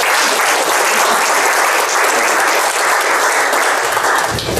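Loud, dense applause from a festival audience after a talk on psychology and alchemy, a sustained wash of many hands clapping close and steady, ending with a slight dip.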